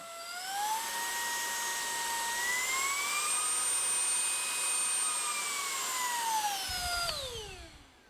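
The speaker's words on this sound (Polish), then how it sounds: "Ten odpala odkurzacz. On w tym momencie, on w tym momencie działa." A Puron PU20 handheld vacuum cleaner runs with a steady high whine that swells in pitch, holds, and then winds down at the end, heard close and alone.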